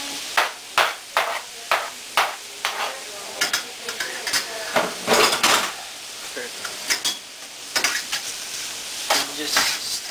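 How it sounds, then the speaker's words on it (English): Chopped cabbage and grated carrots stir-fried in a pan for udon, with repeated sharp scraping clacks of a utensil against the pan in a steady rhythm over a soft, continuous sizzle, close and fairly loud. "I chopped my cabbage and grinded my carrots, and now I'm gonna go throw it in the pan."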